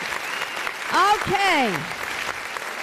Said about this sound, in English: Let's hear applause for them.